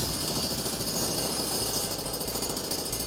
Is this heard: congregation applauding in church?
no